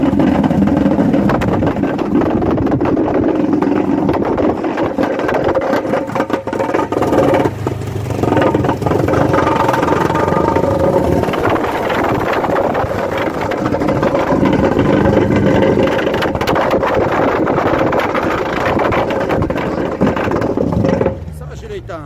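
The engine of a vibrating construction machine runs during a repair, giving a loud, continuous, rumbling drone that holds steady for about twenty seconds before dropping off at the end.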